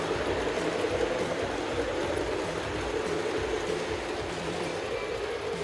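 A Lionel O-gauge Big Boy model locomotive runs around a home layout, giving a continuous low rumbling whir with faint rhythmic clicks from the track, steady and moderately quiet with no talking.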